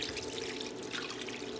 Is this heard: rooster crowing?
no